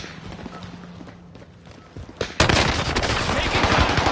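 Gunfire in the Call of Duty Warzone video game breaks out after a quieter stretch with footsteps, turning into dense, loud rapid shooting.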